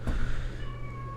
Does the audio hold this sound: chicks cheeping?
no